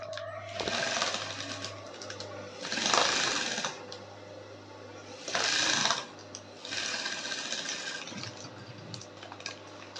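A sewing machine stitches down bias binding at 0.5, running in several loud close bursts of rapid mechanical whirring separated by short pauses.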